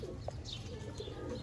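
Pigeons cooing in a loft where birds are kept and sold, a few soft low coos and faint chirps rising over a steady, noisy background.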